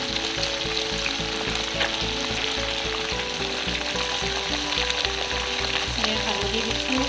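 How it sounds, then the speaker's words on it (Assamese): Pieces of fish sizzle loudly in hot oil in a home kitchen, a constant crackling fry with a soft, regular pulsing beneath it and no talking. "ইয়াত তেল গোটেইখিনি ভাজি ল'ম, তাৰপিছতে তাৰ লগত আমি পচলা ভাজি মিক্স কৰি বনাম।"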